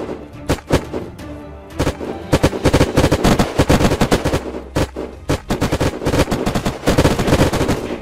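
Gunfire from the Unturned video game during a military base siege: dense bursts of shots, rapid automatic fire mixed with single loud cracks, nearly continuous throughout with brief pauses.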